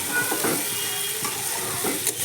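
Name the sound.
food frying and popping loudly in hot oil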